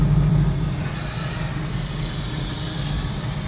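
Several cars idling in a queue at a morning car show, waiting to be parked: a steady low engine rumble with a deep, even drone that stays constant throughout, close and fairly loud with no talking.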